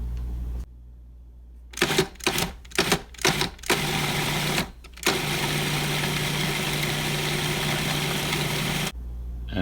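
Food processor chopping pesto ingredients of cheese, nuts and garlic, starting with several short pulsed bursts and then running in one continuous steady whir before stopping.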